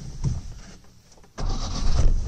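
A rebuilt Lancia Flavia Milleotto LX engine cranks briefly, pauses, then catches and settles into a rough, rattly idle close by.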